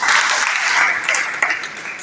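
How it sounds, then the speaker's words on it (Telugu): An audience at a business talk claps in a dense, steady burst, fairly loud and close, thinning slightly toward the end. "వారు కూడా బిగ్ క్లాప్స్ ఇవ్వండి"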